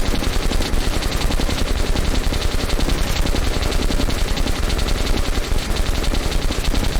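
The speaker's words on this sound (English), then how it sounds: "I don't know what gun this is, but it looks good. This mini machine gun here." A mini machine gun fires in Metro: Last Light Redux as one continuous rapid stream of close, loud automatic shots that holds steady for the whole stretch.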